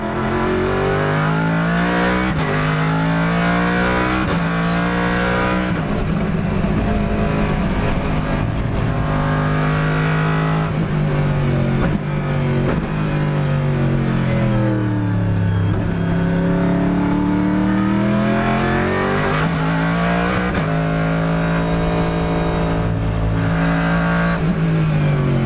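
An Aston Martin Vantage GTE race car gives off a loud, tonal straight-cut gear whine that rises and falls in pitch with each acceleration and lift, layered over the continuous close engine roar.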